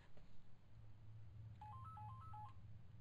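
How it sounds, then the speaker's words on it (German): A telephone in the horror game Project Zero 4: Mask of the Lunar Eclipse rings as a brief run of alternating electronic beep tones, fairly quiet, over a steady low hum with no one talking. "Oh, jetzt klingelt auch noch das Telefon."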